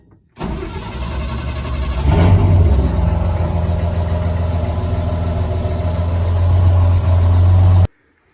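A Chevrolet C10 pickup truck's engine cranks over and catches, then settles into a loud, steady rumble with a slight rise in revs toward the end before cutting off abruptly.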